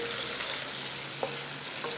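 Garlic shrimp sizzles steadily in a pan as the sauce reduces, a constant close frying hiss broken by a couple of soft stirring clicks.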